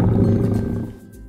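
A loud, close lion roar from a children's educational safari toy, one sustained deep growling rumble that fades toward the end.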